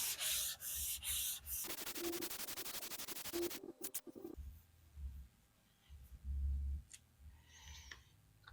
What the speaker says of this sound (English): This is basically just letting the sandpaper do the work.